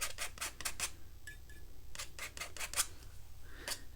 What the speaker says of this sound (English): See, I'm kind of scraping like I would in acrylic.